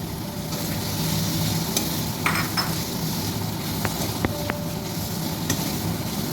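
Soft continuous sizzle of fried prawns in a pan, with a few faint clinks and scrapes of stirring, no voices.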